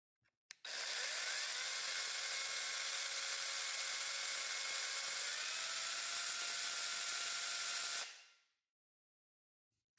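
A Fieldmann FZP small pruning chainsaw starts up and runs at a steady high-pitched whine for about eight seconds, then quickly spins down and stops. It is loud, close and alone, with no talk.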